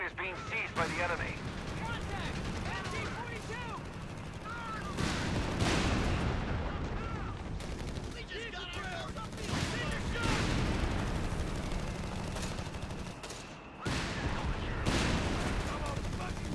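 Tank cannon fire and gunfire from a Company of Heroes battle around a StuG, rounds glancing off its front armour, dense overlapping blasts and booms throughout with someone talking over the fighting.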